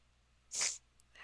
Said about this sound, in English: Felt a sneeze coming.